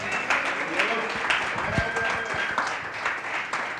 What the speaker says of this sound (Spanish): Denle otro aplauso a Cristo.